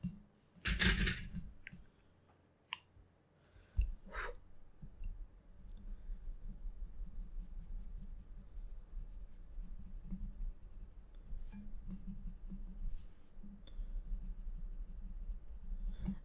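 Prismacolor colored pencils burnish a sugar skull drawing on paper with firm pressure, a quiet close scratching and rubbing under a few louder taps and clicks.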